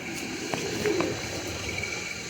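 Deobandi pigeons coo softly, a few low murmuring calls rising over a faint steady background hum, with no voices.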